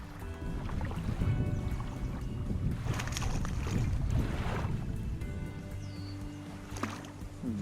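Strong wind roars steadily across the shore during kayak fishing, a loud, rushing, broadband gust with water lapping near the boats and no one speaking.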